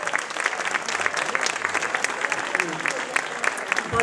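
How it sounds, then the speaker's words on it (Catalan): Audience applause at an official welcome event for a neighbourhood association platform in Roquetes, a dense steady wash of many hands clapping throughout, moderately loud and close, with faint voices mixed underneath. "Un fort aplaudiment, sisplau."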